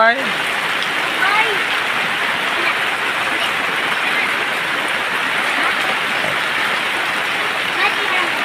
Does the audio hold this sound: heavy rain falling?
yes